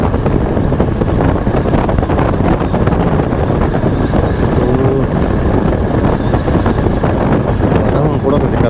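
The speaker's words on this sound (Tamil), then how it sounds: "அப்பா காற்று தாங்க ஜில்லுன்னு அடிக்குது" Strong, cold wind buffeting the microphone in loud, continuous gusts at an outdoor cattle market, with a person talking in Tamil underneath the roar.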